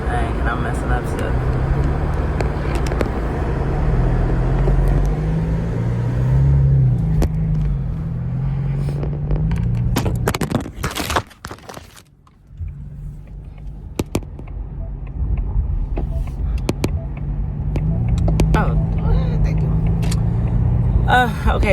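A 1960s Ford Mustang drives with a steady low engine rumble that briefly drops away near the middle, then returns; someone talks over it throughout.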